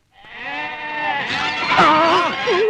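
Goats close by give loud, drawn-out bleats, several overlapping cries that rise and waver for almost three seconds.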